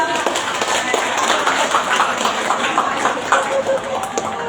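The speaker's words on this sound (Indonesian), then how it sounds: "Tepuk tangan dulu tuh" A mixed crowd claps at a hospital health-education session, dense scattered applause at moderate loudness with voices murmuring underneath.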